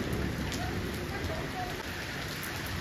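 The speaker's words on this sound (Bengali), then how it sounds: "প্রচন্ড পরিমাণে বৃষ্টি হচ্ছে" Heavy rain pours down in a steady, dense roar of falling drops, loud and unbroken, with a faint voice barely present beneath it.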